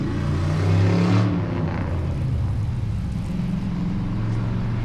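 A military Humvee truck idles close by with a deep, steady low rumble, swelling slightly in the first second before settling into an even running drone, with no voices heard.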